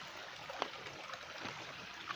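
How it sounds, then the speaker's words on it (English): Water from Ambakan Falls flowing steadily down toward a giant sinkhole, a faint, continuous broadband rush and trickle with small gurgles, heard from a distance and without voices. "I think the water is flowing here, going down to that, what they call a giant sinkhole"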